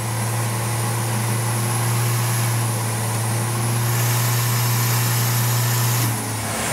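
A stock engine runs on a dyno under load, a steady droning hum with a strong sustained low tone and a broadband roar that cuts off abruptly near the end, loud and without talk.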